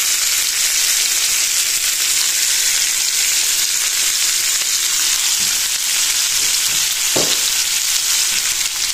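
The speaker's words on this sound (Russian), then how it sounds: "Мясо я обжариваю на большом огне для получения золотистой корочки" Meat searing in a pan over high heat to build a golden crust, an unbroken dense sizzle, close and loud, with a few soft utensil knocks near the end.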